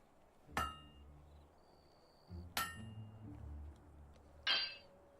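Metal hammer blows at a forge in the video game Fable II, three loud ringing clangs spaced about two seconds apart, each with a bright metallic ring that decays over quiet background.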